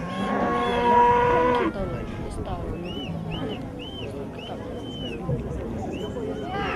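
A cow gives a long, loud moo at a community anniversary gathering in the Peruvian highlands, and a crowd murmurs and talks around it afterward.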